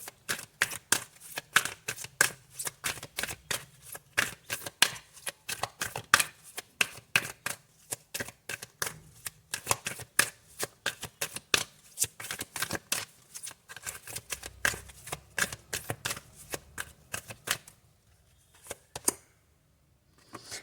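Tarot cards are shuffled in a fast, continuous run of crisp riffling clicks, close and fairly quiet, before ending in near silence, with no one speaking.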